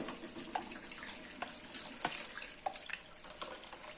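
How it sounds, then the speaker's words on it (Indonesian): Cold water pouring steadily from a tap over boiled noodles, a continuous splashing stream with small irregular spatters, close and fairly quiet. "Nah udah gitu kita siram air dingin biar dia nggak lengket ya."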